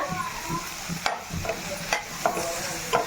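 Tempering for dosa chutney frying in a pan, a soft steady sizzle with intermittent clinks and scrapes of stirring spaced about half a second apart, close and moderately quiet, with no voices.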